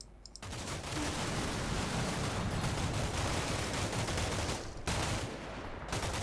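Dense gunfire pours from a building in the video game Combat Mission Shock Force 2: sustained overlapping rifle and machine-gun bursts that form a near-continuous loud crackle, with brief gaps near the start and toward the end.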